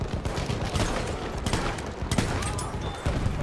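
Dense gunfire in the video game Battlefield 1, rapid overlapping shots and bursts at loud volume, continuous and chaotic with some faint voice mixed in.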